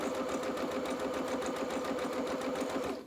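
A domestic sewing machine runs a zigzag stitch through pyjama fabric near a waistband seam, a fast, even mechanical whirr with a rapid rhythmic needle chatter, steady and close throughout.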